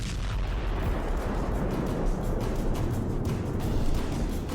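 Explosion on the Crimea bridge in news footage, a heavy, continuous roar of blast and rumble that stays loud and even throughout, with no voices.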